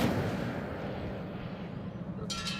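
Fire spell cast in the video game Hogwarts Legacy: a steady roaring, crackling burst of flame that rumbles throughout, with a brief bright crackle near the end, heard alone without talk.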